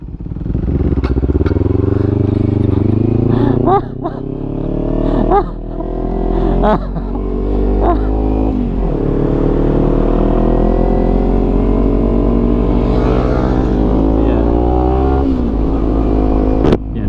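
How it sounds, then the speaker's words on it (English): A 2020 KTM Duke 390 single-cylinder motorcycle engine with modified exhaust revs hard and loud at close range, rising and falling through several sharp throttle blips, then settling into a sustained rough roar over about seventeen seconds. "I think my bike's still louder"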